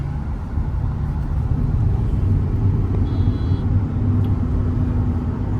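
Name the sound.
tyre road noise inside a moving Kia Carens Clavis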